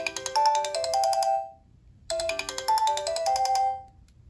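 A Sony Ericsson Spiro W100i from 2010 plays a bright melodic ringtone in two phrases with a short gap between them, each fading out at the end, clear and close with nothing else over it.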